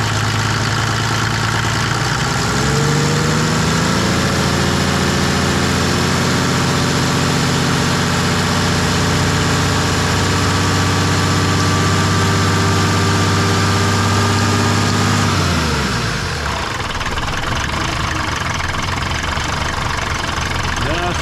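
An engine runs steadily after a fuel system repair, loud and close with a rough, knocking idle that shifts in tone near the start, then cuts out about three quarters of the way through, leaving quieter shop noise.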